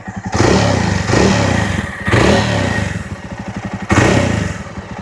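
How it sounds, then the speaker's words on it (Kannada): A Jawa 42 motorcycle engine thumps deep and loud, revving in repeated surges with a steady low throb between them; no talking. "ಡೀಪ್ ಇಂಜಿನ್ ಸೌಂಡು ನಿಮಗೆ ಈ ಥರ ಕೇಳಿಸುತ್ತೆ"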